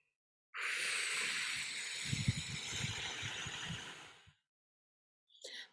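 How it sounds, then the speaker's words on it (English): A person breathes out slowly with the tongue pressed to the roof of the mouth, making a long, close, airy hiss that lasts several seconds before fading, followed by a short second breath. "breathing out."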